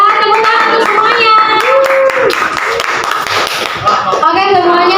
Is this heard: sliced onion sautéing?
no